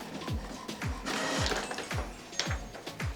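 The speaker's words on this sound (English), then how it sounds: "Okay, I'm gonna press print" An inkjet printer loaded with sublimation ink runs with a steady, rhythmic mechanical clatter, its print head shuttling back and forth in regular strokes about every half second, close and fairly loud.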